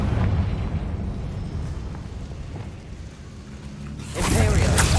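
Confringo fire spell explosions in the Hogwarts Legacy video game on PC, with a loud sustained rumbling roar and a sharper, brighter blast near the end over constant game noise.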